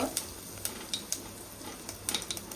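Cumin and asafoetida sizzle in hot oil along with mustard seeds for a Marathi-style tempering. The sizzle is soft and steady, broken by scattered small pops and light utensil clicks, and stays faint and close.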